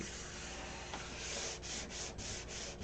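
Close, steady hand sanding of a clear coat without a block: rhythmic rasping strokes of abrasive paper rubbing over a hard surface, quiet with no talking.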